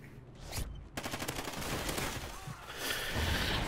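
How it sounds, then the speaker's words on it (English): Rapid gunfire in the video game Call of Duty: Ghosts, an MTAR X rifle among other weapons, with bursts of automatic shots and booming impacts over a noisy battlefield background, moderately loud. "Being shot all over the place."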